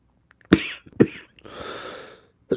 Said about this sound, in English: Sorry if I'm coughing into the mic.